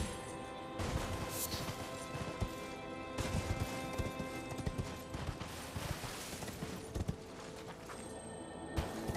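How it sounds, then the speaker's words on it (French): Horse hooves clip-clop at a steady trotting pace in the video game Elden Ring, mixed with scattered thuds and game effects at moderate loudness, with no talking. "On va récupérer donc notre petit cheval"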